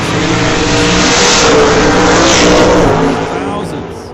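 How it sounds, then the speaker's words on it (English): A 1967 Shelby Mustang launches hard down the lane at an old-time drag race, its engine roaring loud and close with a broad, sustained rasp that fades as the car pulls away. "Poe Freeborn, right-hand lane, the 67 Shelby Mustang."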